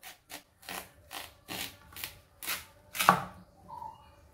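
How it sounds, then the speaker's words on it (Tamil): A knife cuts through a watermelon quartered for a pudding, producing about eight sharp, rhythmic chopping strokes on a board, close and clear, with quiet gaps between them. "இந்த புடிங் செய்கிறதுக்காக வாட்டர்மெலனை நாலாக பிரித்து அதில் ஒரு பகுதியை தான் நான் எடுத்துக்கிறேன்"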